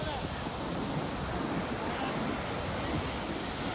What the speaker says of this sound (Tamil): கடலை பாருங்க எப்படி அடிக்குது